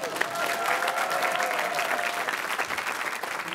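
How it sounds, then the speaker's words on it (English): An audience at a live evening talk show applauds for the host Meghna Chakrabarti, a steady, dense wash of clapping that fills the hall, with a faint tone running under it. "Round of applause for Meghna here."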